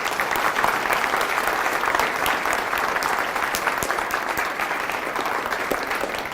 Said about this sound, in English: Will you all please give them a huge round of applause?